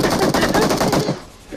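Automatic gunfire in the BGMI mobile shooter game rattles in a dense, loud, rapid burst that fades away near the end.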